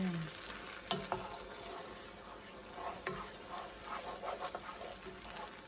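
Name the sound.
stirring orange fennel mascarpone risotto in the pan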